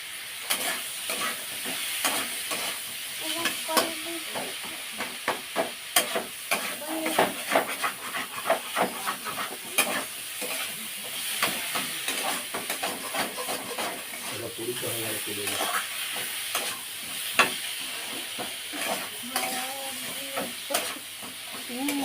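Curry being stir-fried in a pan, dense rapid clatter of a spatula against the pan over a continuous sizzle, close and busy throughout, with a brief low hum partway through.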